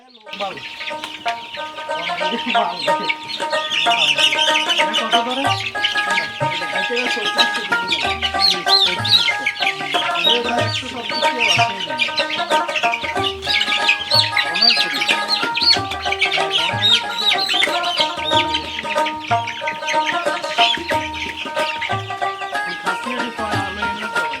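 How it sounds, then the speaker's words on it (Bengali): Dense, continuous chorus of tiger-breed chicks peeping shrilly and rapidly up close as they are bundled for sale, with occasional low knocks and handling noise beneath. "তো টাইগার মুরগির বাচ্চাগুলো ভান্ডিল বাঁধা হচ্ছে"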